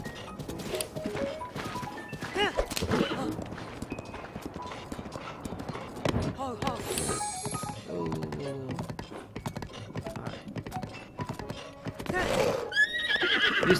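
A horse in a video game neighs loudly and whinnies several times over steady clip-clop hoofbeats, with someone talking throughout.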